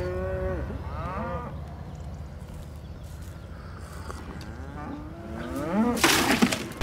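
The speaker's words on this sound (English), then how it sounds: "Look at the size of this cow that has everyone talking" A cow moos several times in drawn-out, wavering calls over a low background rumble, followed by a louder burst of noise near the end.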